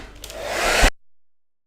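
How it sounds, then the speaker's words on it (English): A hair dryer blowing on a watercolour painting makes a loud, close, rising whoosh of air for under a second before it cuts off abruptly. "I'll dry it off before I take the tape off."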